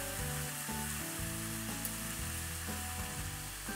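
An egg fries in a pan with a soft, continuous sizzle up close while a quieter tonal background runs underneath.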